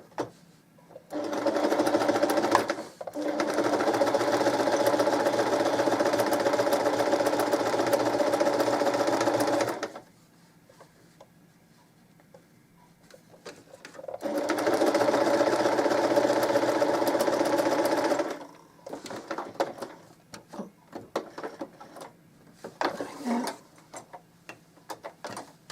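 A sewing machine joins two rows of a woven quilt block with a 1/4 inch seam, running in two long steady bursts of close, loud motor whir separated by a quiet pause, followed by softer handling clicks and rustles.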